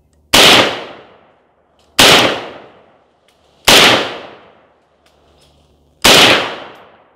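Four loud, close gunshots fired at a carved pumpkin, each a sharp crack with a fading tail, spaced evenly about one and a half to two seconds apart with silence between.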